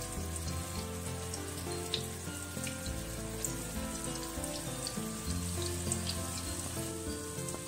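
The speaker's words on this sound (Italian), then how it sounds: "Quando l'olio è caldo, introduciamo in padella le nostre focacce di patate ripiene." Stuffed potato focaccine frying in hot oil in a pan, a steady close sizzle with scattered crackles and pops throughout, no voices.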